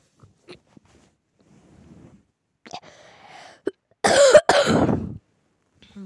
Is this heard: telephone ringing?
no